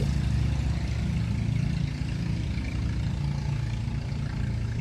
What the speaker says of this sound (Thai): เสียงเรือ